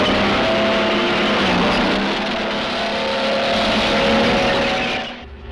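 An amphibious vehicle driven by an expert crosses a frozen river in a military demonstration. Its engine roars in a loud sustained drone that eases briefly before rising again and cutting off at the end.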